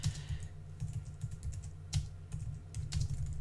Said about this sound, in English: So the first bit, I'm just going to type in